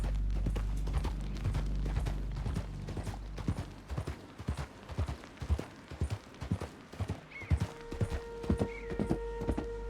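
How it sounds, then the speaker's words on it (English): Horse hooves clip-clop at a steady walking rhythm in the Western video game Red Dead Redemption 2. The footfalls sound fairly close and moderately loud, with faint mechanical clinks and no voices. "That's a strong-looking steed."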